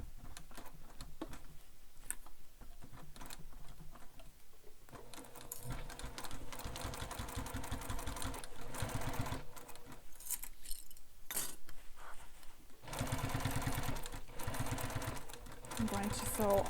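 A sewing machine is turned slowly by hand through a bulky section of a fabric bag, giving faint, uneven clicks and mechanical ticking at a quiet level throughout.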